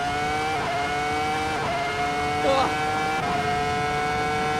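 A high-pitched formula race car engine in the video game Assetto Corsa whines steadily at close range on the Indianapolis circuit, its harmonic tone dipping briefly a few times like gear shifts, with a short voice interjection.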